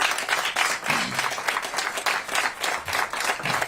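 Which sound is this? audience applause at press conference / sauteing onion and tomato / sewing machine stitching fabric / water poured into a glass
audience applause at press conference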